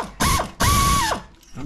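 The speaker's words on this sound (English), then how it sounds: "So what I'm undoing is the adjuster bolt and nut" A ratchet wrench loosening the half-inch adjuster bolt and nut on a gas 1994 Club Car DS golf cart, two loud, close bursts of rapid clicking in a cramped engine space.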